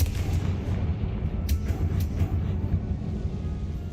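Spell blasts boom in a Hogwarts Legacy battle: a steady dense rumble of low impacts with a few sharper cracks, moderately loud and continuous, with no voices.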